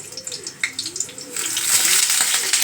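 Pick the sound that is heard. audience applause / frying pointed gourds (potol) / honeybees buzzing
frying pointed gourds (potol)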